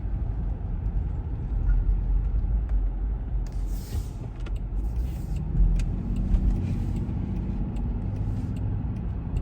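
A 2021 Land Rover Defender 110 accelerates out of a parking lot, heard from inside as a steady low engine rumble with road noise that swells slightly as it picks up speed.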